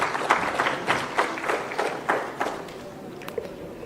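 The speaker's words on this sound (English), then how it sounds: "Round of applause, please, ladies and gentlemen" A small round of applause at a public government event in Andhra Pradesh, a handful of distinct, fairly close claps in an uneven rhythm that thin out and fade toward the end.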